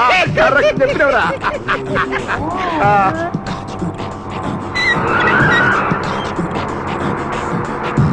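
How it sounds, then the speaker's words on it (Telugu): A car speeds along, turns left and skids as its brakes fail in a Telugu film scene, with loud engine roar and tyre squeal under background music and voices. "కారు జోరుగా పోతుంది. ఇప్పుడు లెఫ్ట్ కి తిరుగుతాడు, బ్రేక్ మీద కాలేస్తాడు, బ్రేక్ ఏమో పడదు, బండేమో పడుతుంది."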